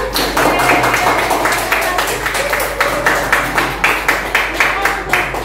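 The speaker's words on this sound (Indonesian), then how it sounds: "Beri tepuk tangan untuk kelompok 1" Classroom students applauding a group after its presentation, a close, lively run of uneven hand claps that lasts several seconds.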